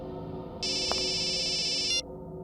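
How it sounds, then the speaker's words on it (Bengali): A mobile phone ringtone sounds for about a second and a half as a bright electronic tone that starts and cuts off abruptly in a quiet room. "বস, আপনার ফোন"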